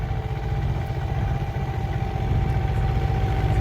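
Two tractors running on a farm field, a steady close rumbling engine drone with a faint clattering pulse and no pauses.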